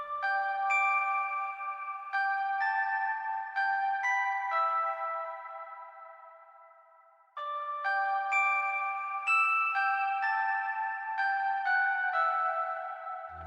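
A bright melodic motif from one track, set over another track, plays as two repeated phrases of bell-like sustained notes, clear and upfront, with a short low thump at the very end.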